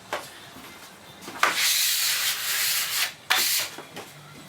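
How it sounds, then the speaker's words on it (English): A scraper rasps muck off veneered wooden panels in long, loud strokes, three drawn-out hissing scrapes separated by brief pauses, heard up close with no talking. "that's the last of the panels scraped off"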